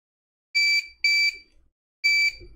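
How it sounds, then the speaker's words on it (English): An HID RFID reader running on battery power beeps three times: two quick high electronic tones in succession, a short gap, then a third, clear and alone in an otherwise quiet room. "We should get some beeps here."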